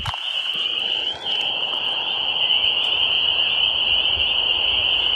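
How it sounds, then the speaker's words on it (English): A dense, continuous high-pitched trill of crickets chirping fills the air, steady and loud, with a faint low background rumble and no talking. "That's where the crickets are."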